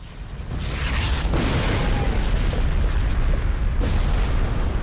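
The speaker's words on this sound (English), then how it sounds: "Because that explosion was like 10 times louder than any other sound in the game." A huge explosion in the video game Phantasy Star Universe booms loudly and keeps rumbling in a sustained, roaring wash that lasts several seconds.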